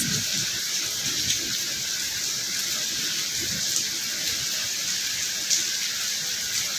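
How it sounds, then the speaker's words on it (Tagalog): Steady rain falls on an early stormy morning, a dense continuous hiss with faint scattered drip patter, even and unbroken throughout with no talking. "Umuulan siya guys."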